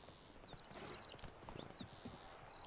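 Horse hooves clip-clop in the video game The Witcher 3: Wild Hunt, a steady near trotting rhythm with faint background ambience and whistling tones.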